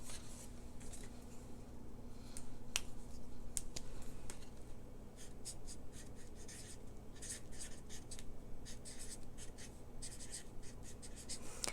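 Pen scratching across paper while writing down measurements for a fall-themed paper-craft folio, steady close scribbles and strokes over a low constant hum, with a few sharper ticks along the way.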